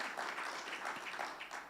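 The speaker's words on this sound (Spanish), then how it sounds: "dele un fuerte aplauso al Señor" A church congregation applauding, a short stretch of steady, dense clapping from many hands in a reverberant room, fairly soft and even throughout.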